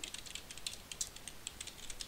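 Rapid, steady typing on a computer keyboard, with light clicky keystrokes repeating close by but faint, with no voices.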